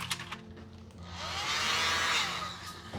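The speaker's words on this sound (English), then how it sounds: "What we're gonna do is just do dots and use a little blower." Small handheld air blower pushing paint dots across a large canvas, a close, breathy rushing hiss that swells for a couple of seconds and then tapers off, no talk.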